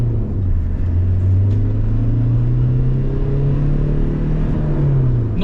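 A Rover car with newly fitted injectors and its EGR deleted accelerates in first gear, and the engine note climbs steadily and stays loud and close throughout, a continuous rising drone with no talking over it.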